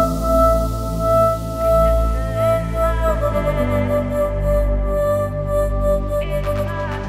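A music track with a stutter vocal effect whose LFO speed is automated, so the volume chopping shifts rate over sustained tones, speeding into rapid flutter near the end.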